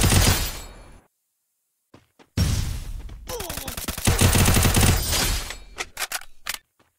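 Rapid gunfire from a Free Fire Lone Wolf match, loud bursts of automatic shots broken by a silent gap, then sustained firing and a few final single shots.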